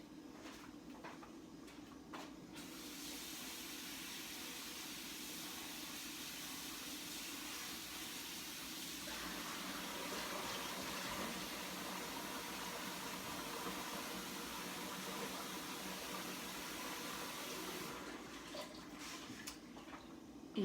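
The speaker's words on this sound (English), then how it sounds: "I'm gonna rinse this kale off" Kale rinsed under a running kitchen tap, a steady continuous rush of water lasting most of the twenty seconds, close and even, with brief handling sounds at the start and end.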